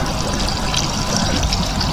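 Water from a koi pond's backwash filter runs down through one chamber and up through another, a steady close rushing trickle that fills the whole short stretch.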